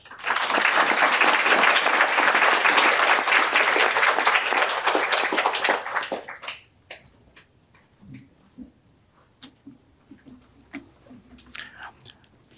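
An audience applauds to welcome a speaker to the stand: dense, loud, steady clapping for about six seconds that then stops abruptly, followed by faint rustles and small room noises.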